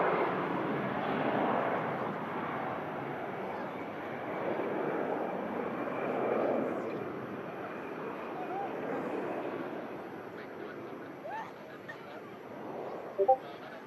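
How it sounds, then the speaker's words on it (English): A jet airliner climbing out after takeoff on a flight back to Turkey gives a broad, steady roar that swells and fades gradually over many seconds, with wind buffeting the microphone and a voice talking faintly. "Sun just catching the top of the fuselage there as it climbs out back to Turkey."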